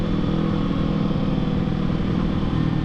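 A Kawasaki Ninja ZX6R engine runs with a steady, dense mechanical drone and a faint throttle rise, loud and close, buffeted by wind noise, with no talk.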